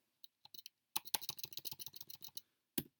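Typing on a computer keyboard to enter a calculation into Desmos: a few scattered key taps, then a quick, dense burst of close, crisp clicks, a pause and one final keystroke.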